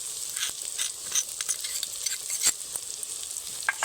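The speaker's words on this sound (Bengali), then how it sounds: "শুকনো মশলাগুলো দিয়েছি, কয়েক সেকেন্ডের জন্য পেঁয়াজের সঙ্গে নেড়ে নেব" Onions fry in a pan with red chilli powder, Kashmiri chilli powder and cumin powder, for a fish oil curry; a steady, bright sizzle is stirred through with occasional scraping strokes, close and continuous.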